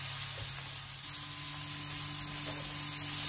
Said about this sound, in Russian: просто жарю котлеты